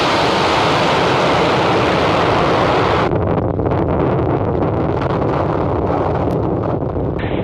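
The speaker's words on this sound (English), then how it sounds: "And liftoff of Falcon 9" A SpaceX Falcon 9 rocket lifts off on the NROL-48 mission from Vandenberg Air Force Base. Its roar is a loud, continuous broadband rumble like heavy wind, and the crackling upper edge of the roar thins out partway through.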